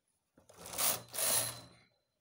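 A knitting machine carriage sweeps across to make a single stitch while a gent's cable-design sweater is being knitted, giving two close, steady mechanical whirring passes with a short break between them and no talking.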